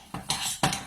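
Utensil clinking and scraping against a bowl while stirring chocolate mousse mixture, two short bursts of clatter fairly close, with no talking.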